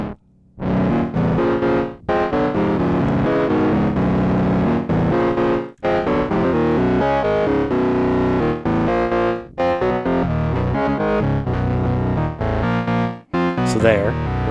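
A dry wavetable oscillator synthesizer, the Neutral Labs Elmyra-2, plays a busy, melodic sequence of bright, buzzy notes with brief gaps, loud and up front, with delay and reverb off and no echo or reverb tail.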